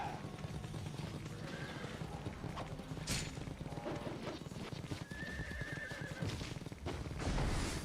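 A horse in the Ninja Gaiden Sigma video game neighs loudly several times over a constant clatter of galloping hooves and scattered combat effects.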